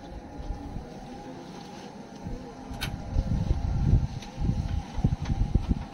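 A rebuilt 1953 Willys M38A1 army jeep engine runs at idle with a low, rumbling, uneven churn and a few rising pulses, heard fairly close with some wind noise and no talking.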